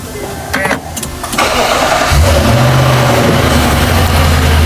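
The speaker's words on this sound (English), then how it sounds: "On startup, it's got a nice little burble, it sounds fantastic" A Nissan Y62 Warrior with a bimodal exhaust cranks briefly, then catches and settles into a deep, steady burbling idle, loud and close with no talk over it.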